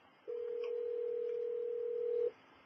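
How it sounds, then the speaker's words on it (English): A telephone call placed through Microsoft Office Communications Server, heard as one steady ringback tone lasting about two seconds, clear and alone. "So I'm placing the call again"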